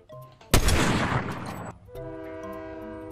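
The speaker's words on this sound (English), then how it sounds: "The train!" Train horn in the video game Fortnite: a loud, sudden blast that bursts in after a quiet moment and holds for about a second, then gives way to a sustained multi-tone horn chord that keeps sounding to the end.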